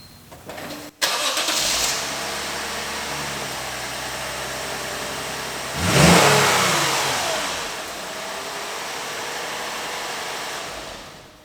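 A car engine cranks briefly after a click, then starts and settles into a steady idle before revving up once and easing back down.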